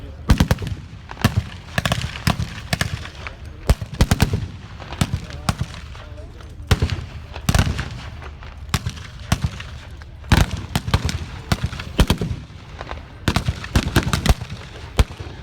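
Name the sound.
battle reenactment gunfire: heavy machine guns, mortars, small arms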